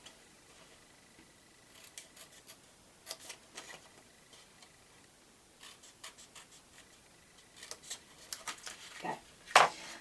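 Scissors snip paper along score lines while a petite box bag is being made: a series of light, crisp cuts comes in small bursts with quiet gaps between them, and a louder snip lands at the very end.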